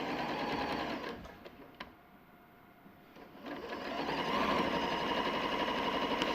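Sewing machine stitching quilt pieces, a quiet whirring run that slows and pauses midway, then picks back up into a steadier, slightly louder hum.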